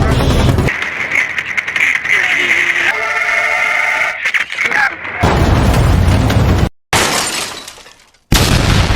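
A loud, chaotic film crash as a car hits a sign on a field: grinding impacts and breaking, shattering noises over dramatic sound, with abrupt cuts and brief drops to silence between bursts.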